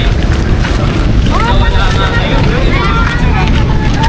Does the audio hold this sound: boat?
yes